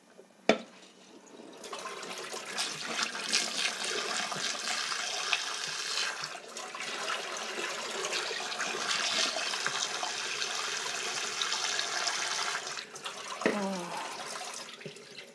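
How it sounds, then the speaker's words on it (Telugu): Cold water runs from a tap into a pot of boiled eggs, a steady close rush of pouring and splashing that lasts most of the stretch, with a sharp knock near the start and a brief gurgle near the end. "ఇట్లా చల్ల నీళ్ళు పోసుకొని మనము"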